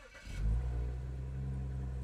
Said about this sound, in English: So if I go and try to start the car